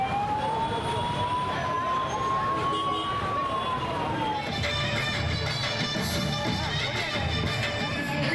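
An ambulance siren wails with a long, slowly rising and falling tone while stuck in traffic congestion during an Indian election campaign event, heard amid a dense, noisy crowd and street din.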